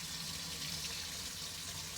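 Warm water runs steadily from a tap into a sink, a constant broadband hiss with no talk, ahead of cleaning and conditioning work boots.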